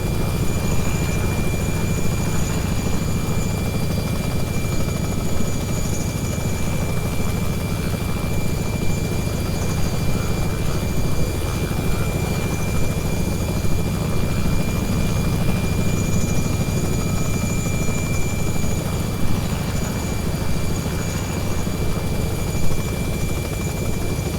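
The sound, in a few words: Robinson R66 turbine helicopter taking off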